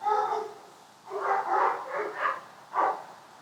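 Dogs barking some distance away, several separate barks and yips in short bursts with quiet gaps between them.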